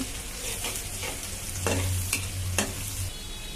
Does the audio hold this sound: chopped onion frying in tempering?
yes